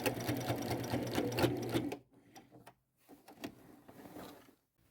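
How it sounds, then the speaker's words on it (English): A sewing machine runs a straight stitch near the edge of a plain white shirt, a steady rapid mechanical whir for two seconds, then quieter short bursts of stitching with small clicks and pauses. "I will use a straight stitch, stay fairly close to the edge"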